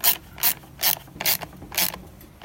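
A hand ratchet tightens a bolt on a Craftsman leaf blower carburetor, five sharp clicking bursts in a steady rhythm, close and loud, with no talking.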